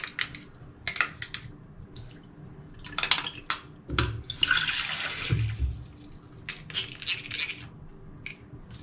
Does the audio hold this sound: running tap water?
yes